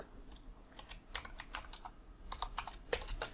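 Computer keyboard typing JavaScript code, quiet close key clicks in irregular bursts and short runs with brief pauses between them.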